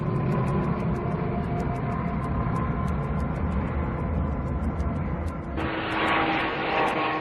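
A propeller aircraft engine drones loudly and steadily, with a tonal hum and a sudden shift to a brighter, harsher roar near the end; no talk is heard.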